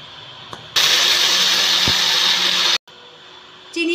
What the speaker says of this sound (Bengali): চিনিটা মিক্সারে আমি খুব ভালো করে গুঁড়ো করে নিয়েছি